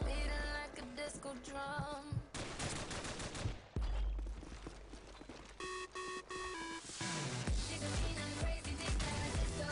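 Gunfire in Call of Duty 4: dense bursts of sharp shots and rapid automatic fire, mixed with ringing, tonal game sounds, with no talking.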